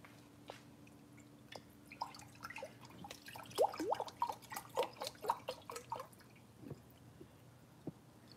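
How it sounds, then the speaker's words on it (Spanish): Water trickles and drips into an engine cylinder during a class on motors, a faint, irregular patter of small splashes and gurgles that builds and then thins out, with no talk. "medio litrito de agua y vamos a ver con cuánto se llena este cilindro"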